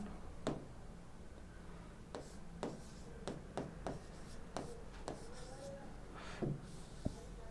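A pen scratches out short strokes on paper, a series of quiet, crisp taps and scrapes in an irregular rhythm, close and alone with no talking.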